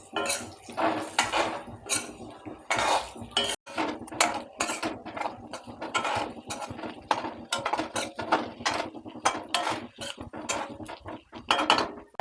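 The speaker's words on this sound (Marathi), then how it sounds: "आता उकडून घेतलेली बटाटी होती ती पण टाकायची आहेत. परतून घ्यायचं आहे चांगलं." Boiled potatoes for dhaba-style dum aloo being sautéed and stirred in a pan, heard as rapid repeated metallic scraping and clinking of a spatula against the pan, close and busy throughout.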